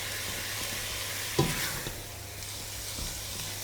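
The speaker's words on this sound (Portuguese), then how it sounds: "vamos deixar fritar bem de ambos os lados. Podemos agora adicionar o alho picado" Meat and chopped garlic fry in a pan with a steady, close sizzle, broken by a brief clatter of stirring partway through.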